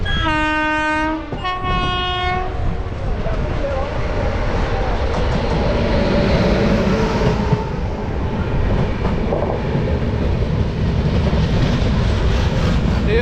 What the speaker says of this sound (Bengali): এই সবে ট্রেন ছাড়লো।